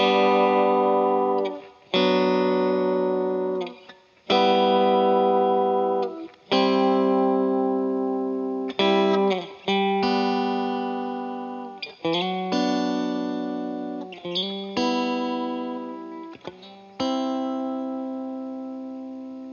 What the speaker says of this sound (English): we can play some triads. So it could sound something like this